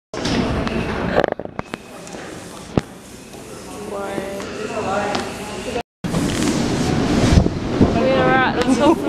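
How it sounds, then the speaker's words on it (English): Strong gusts of wind roar and buffet the microphone at the top of a tower in Iceland in February, with people talking over the rushing noise. "It's very windy."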